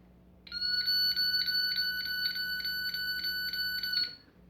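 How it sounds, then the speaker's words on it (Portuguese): Rapid, even electronic beeping from a short-circuit component identifier used to repair an electronic circuit board, a steady train of about a dozen sharp, close, loud pulses lasting several seconds before stopping abruptly. "ele está fazendo com que o aparelho bipe um pouco mais rápido"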